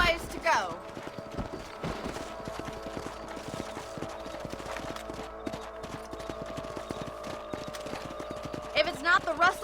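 Horse hooves clip-clop in a steady trot across a ranch in a Western video game, a persistent rhythmic clatter running the whole stretch beneath a sustained musical tone and occasional voices.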